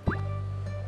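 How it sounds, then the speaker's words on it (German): A watering can is filled at a tap in the farming game Cornucopia, giving a short splashy gurgle followed by a steady low watery hum, close and fairly quiet. "Füllen Sie Ihre Gießkanne hier auf."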